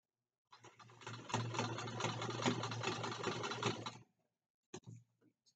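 A sewing machine stitching fabric in a straight line runs in a steady rapid whir for about three and a half seconds, then stops, followed by a couple of short mechanical clicks.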